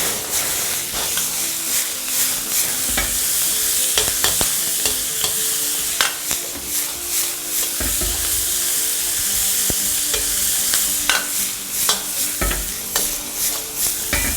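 Green beans tossed in a hot wok with dried chili pieces and dried Sichuan peppercorns give a loud, steady sizzle, broken by repeated scraping and clanking strokes of the spatula.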